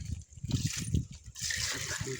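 Raw chicken being washed under water outdoors, a soft trickling and splashing of water over the meat with handling sounds, fairly quiet and close.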